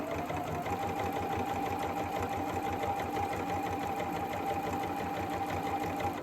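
A sewing machine runs steadily, stitching fabric for a ribbon bow zipper pull, its rapid needle rhythm loud and close and continuing without pause while the fabric is guided through the turns.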